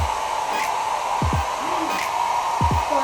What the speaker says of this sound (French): Il va falloir qu'on fasse ça au sèche-cheveux.